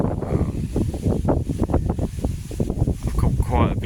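Strong wind buffeting the microphone at the bank of the Little Stour river in Kent while fishing, a loud continuous rumbling roar with gusty pulses throughout.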